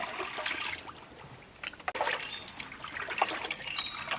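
Water trickles and splashes steadily as raw beef is rinsed for Eid cooking, a soft close running flow with brief splatters and no talking.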